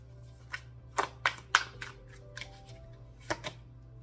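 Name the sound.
shuffling tarot cards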